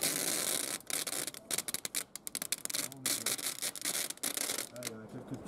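A cloth wrapped over a finger rubs the edges of a boat's surface to press them down, making irregular close scrubbing strokes broken by short pauses, with faint voices at the end.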